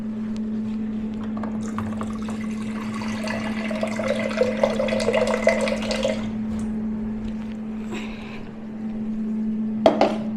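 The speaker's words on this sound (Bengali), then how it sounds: "এখন দেবো মিক্সিতে, এই জলটা দেবো, ধুয়ে নেব" Water is poured into a mixer grinder jar to rinse it after blending mango lassi, a steady splashing fill with a gurgling swirl over several seconds, then a brief clatter near the end, with no talking.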